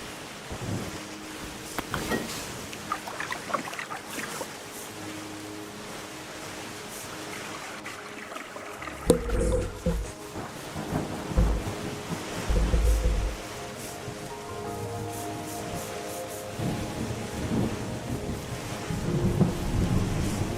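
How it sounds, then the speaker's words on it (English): Rain falls steadily through a thunderstorm with low rumbles of thunder rolling in several times, the strongest crashes arriving about midway, with no voices. "Oh, there we go, we got rain."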